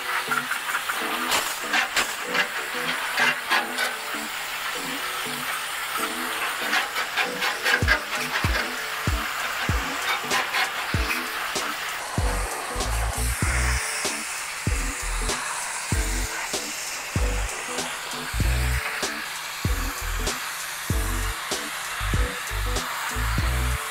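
Water spray rinsing an RV rooftop air conditioner unit, a steady loud hiss of spraying water running throughout, with irregular knocks and thumps from the hose or unit growing more frequent toward the end.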